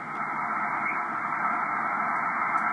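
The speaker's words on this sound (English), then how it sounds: "who wants to operate on a band that's so heavily masked with noise?" Steady, heavy hiss of noise masks an amateur radio band, a constant static wash with no clear signals or voices cutting through, fairly quiet throughout.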